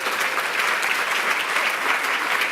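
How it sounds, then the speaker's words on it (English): At an addiction treatment conference talk, the crowd applauds three presenters as they stand, producing a constant, dense patter of clapping at even volume with no speech over it. "could you guys stand up so we can give you one more round of applause?"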